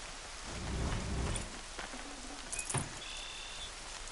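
Steady rain pours in the video game Horizon Zero Dawn, a dense continuous hiss with a soft low rumble early on and a few sharper drops and splashes.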